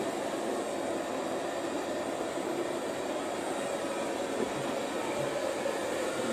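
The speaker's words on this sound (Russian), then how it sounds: "Блин, фен тоже работает, оказывается." A hair dryer whirs continuously with a steady broadband rush, constant in level throughout, with no voices.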